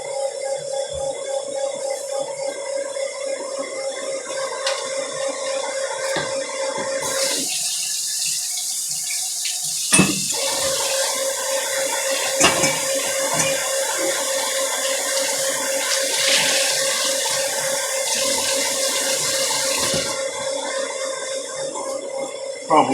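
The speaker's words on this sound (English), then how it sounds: "I'm actually thinking that I'm going to need to add a little bit more water to this." Water pouring from a tap or measuring cup into a bread maker while mixing honey oat bread dough in a kitchen, a steady running wash with a louder stretch midway, over low hum, with no talking.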